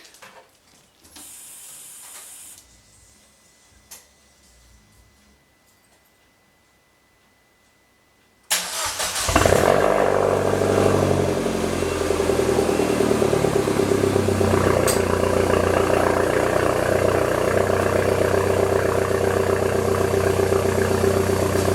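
After quiet rustling, the engine of a tube-frame DS3 race car cranks and bursts loudly to life, then settles into a rough, throbbing idle that continues steadily, close by.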